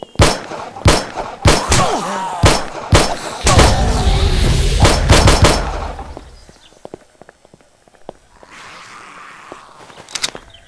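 Gunfire in the zombie survival game 7 Days To Die, a string of loud, sharp shots in quick succession followed by a denser burst and then sparse, fainter impacts, with no talk over it.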